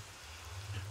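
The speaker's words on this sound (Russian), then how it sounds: "У нас тут дождь." Steady rain falls in the Minecraft modpack FTB Interactions, a faint, even hiss over a low constant hum, with no other sounds standing out.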